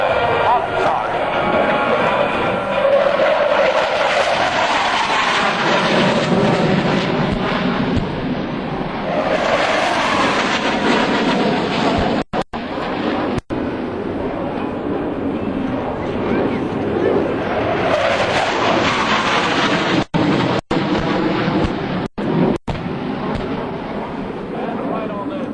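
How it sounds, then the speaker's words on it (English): F/A-18 fighter jets flying a pop-up attack at an air show, a loud, sustained roaring jet rumble that swells and fades over a long pass, with announcer speech over it. "In the pop-up now, the lead FA-18"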